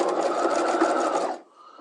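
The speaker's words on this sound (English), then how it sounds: "We're going to stitch it on at 1/2 inch." A sewing machine stitches a sleeve onto a dress at a half-inch seam, running as a steady, loud whirring buzz for over a second before stopping abruptly, leaving a faint hum.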